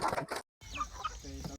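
Chickens cluck and squawk on a poultry farm in two quick close bursts, with a short silent gap between them.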